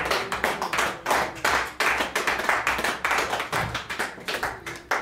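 A church congregation claps in rhythm during worship, a fast run of sharp, loud hand claps that continues steadily with no voices over it.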